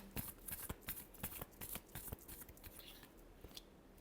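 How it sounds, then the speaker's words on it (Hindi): Tarot cards are shuffled in a quick riffling run of crisp flicks and paper slaps, close and fairly quiet, with no voices. "last shuffle"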